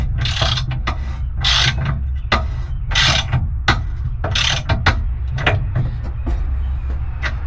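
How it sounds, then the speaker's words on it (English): Regular socket wrench tightening down a bolt on an Andersen Ultimate 5th wheel connection hitch: repeated bursts of ratcheting clicks in uneven strokes over a low steady hum, close and fairly loud, no talking. "I'll start off with just a regular socket. Tighten this down."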